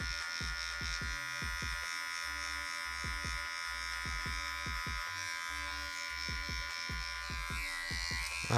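Electric hair clipper buzzing steadily and close up while cutting hair, its constant hum broken by a regular series of soft snipping ticks as it passes through the hair, with no talking.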